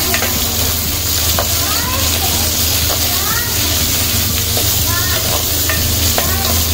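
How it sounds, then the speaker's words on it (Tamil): Tomatoes sautéed in a clay pot for fish curry, a loud steady sizzle and hiss with repeated scraping stirs close by, continuous throughout. "சேர்த்து நல்லா வதக்கி விட்டுருவோம்."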